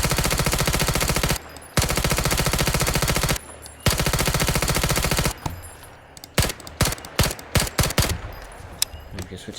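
An SKS rifle fires in Incursion Red River: long, loud runs of rapid automatic fire broken by short pauses, then a string of separate single shots spaced unevenly, close and sharp.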